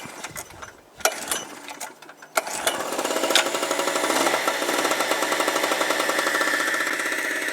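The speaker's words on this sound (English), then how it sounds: "First thing we're going to do is get our generator going." Small two-stroke Harbor Freight generator: a few pulls and rattles, then the engine catches and settles into a steady, buzzy, fast-pulsing idle that runs on continuously nearby.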